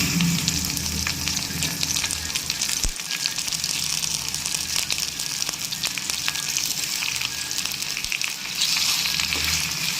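Tomato sautéing with garlic, green chili and curry leaves in hot oil, a loud continuous sizzle close up, with occasional spoon scrapes and taps as the pan is stirred.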